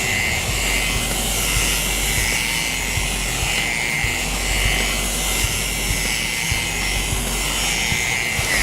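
An EVO 12.5 dual action polisher with a wool pad runs at low speed on automotive paint, giving a steady, loud, continuous whirring drone with a slight pulsing wobble and no pauses.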